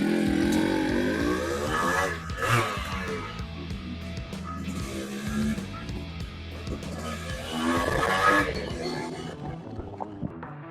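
Yamaha RX100 motorcycle ridden, its engine revving and droning loudly with rising and falling pitch as it accelerates, fading out toward the end.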